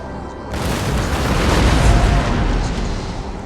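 Artillery explosions from the Napoleonic strategy game Napoleon's Battles, with a dense rumbling barrage that starts abruptly after a brief quiet and stays loud and continuous throughout.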